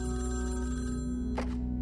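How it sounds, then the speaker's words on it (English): A telephone bell rings steadily and loudly for nearly two seconds, alone with no talking, then a short bump of another noise near the end. "The phone rang."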